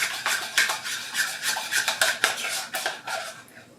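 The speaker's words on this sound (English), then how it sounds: "Now give your glue a nice little stir." A spoon stirs creamy craft glue in a bowl, giving quick rhythmic scraping and rubbing strokes, close and fairly loud, with no talk.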